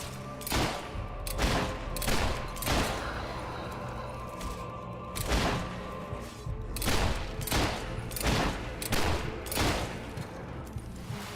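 Gunfire crackles in the video game Fable 3. Repeated shots ring out in uneven volleys and single cracks over a busy game soundscape.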